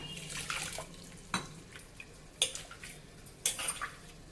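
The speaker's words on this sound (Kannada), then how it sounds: "ಸ್ವಲ್ಪ ನೀರು ಹಾಕೋಣ" Water splashes into a sizzling pan of fried onions and chilli powder for chana sambar in a few quick pours, each with a bright hiss and clatter, close by.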